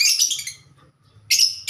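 African lovebirds chirping in two short bursts of shrill, rapid tweets, close and loud, separated by a near-silent gap.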